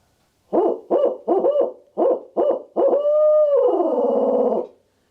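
A man imitates an owl with his voice, giving about six short hoots followed by a long rolling, gargled call at the end like a barred owl; loud, close, and with no other sound.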